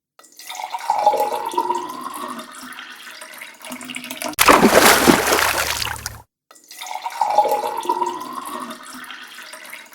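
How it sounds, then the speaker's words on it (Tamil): Water being drawn from a village well, with a loud broadband rush of pouring and splashing for about two seconds mid-clip, set between quieter stretches of water and ambient noise. "வேகமாக தண்ணி இறைச்சிட்டு வந்துடுவோம் கிணத்துல"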